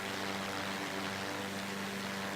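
Steady propeller engine drone of a small single-engine plane in a flight simulator game, a constant mid-loud hum with a low tonal buzz and no talk.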